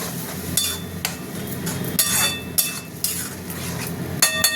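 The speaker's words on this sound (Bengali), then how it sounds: "মশলাটা আস্তে আস্তে কষা হবে" Spices are sautéed and stirred in a pan for banana flower curry, with a soft sizzle under repeated scraping and clinking strokes of a utensil against the metal, close and moderately loud.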